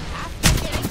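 Gunfire in Apex Legends: one sharp, loud burst of shots lands midway through, with quieter game noise before and after.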